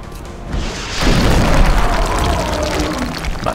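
Rocket explosion in XCOM: Enemy Unknown, a loud deep boom erupting about a second in and rumbling on as a sustained roar through the rest of the moment, with no talking over it.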